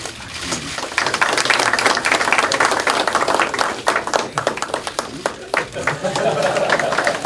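An audience at a Democratic United Party emergency committee meeting claps throughout: dense, crisp clapping close by, mixed with chatter and speaking voices.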